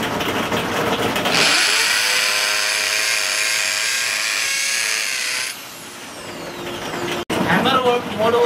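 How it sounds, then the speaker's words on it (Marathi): A Black+Decker 550 W hammer drill (model TB555) running in hammer mode as it bores into a wall, a loud, steady high whine with rattling hammer action that holds for about four seconds before winding down, with background noise around it. "हॅमर मोडवर फक्त 4 सेकंदमध्ये याने ड्रिल पाडलेलं आहे वॉलवरती"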